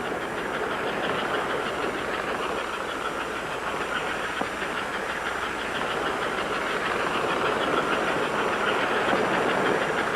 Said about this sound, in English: The air brakes are on, and she's heading into the station.